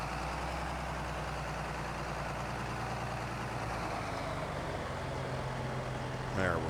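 A tractor engine idles and rumbles low and steady while being backed into place, a continuous heavy drone close by with a brief rise at the very end.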